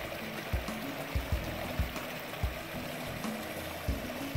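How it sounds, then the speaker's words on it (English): A stream flows close to a stealth campsite on the Appalachian Trail, a steady rushing wash of water with occasional soft gurgles and splashes, no voices. "Here's the water. That's what we're going to listen to all night."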